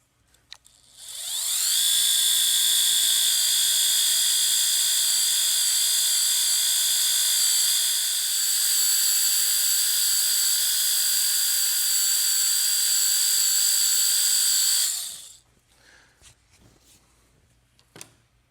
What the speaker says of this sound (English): Don't go crazy with the rotary.